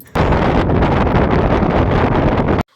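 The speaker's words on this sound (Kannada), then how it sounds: "ಇಷ್ಟೊಂದು ಗಾಳಿ ಬೀಸಬೇಕಾ" Strong wind on a hill buffets the microphone in a loud, unbroken roar that starts abruptly and cuts off after about two and a half seconds.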